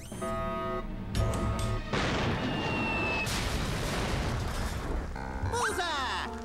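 A loud booming blast from a crash cannon bursts out amid a busy cartoon-like soundtrack with music and voices, followed by whooshing effects.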